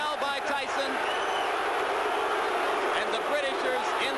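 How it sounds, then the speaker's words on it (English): A large boxing crowd roars and cheers continuously at Mike Tyson vs Frank Bruno, a dense wall of noise with voices blending into an excited, sustained reaction. "And the Britishers in the crowd react."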